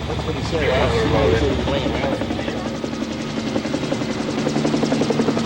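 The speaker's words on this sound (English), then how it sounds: "And now I can hear the helicopter coming." A helicopter's rotor thumps steadily, loud and close, with a person talking over the throbbing engine noise.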